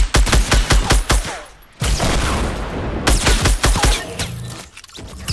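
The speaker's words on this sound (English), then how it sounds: "I'm being shot from somewhere else." Loud, dense bursts of rapid gunfire in the Fortnite Battle Royale video game, repeated volleys with brief pauses between them and no talk over them.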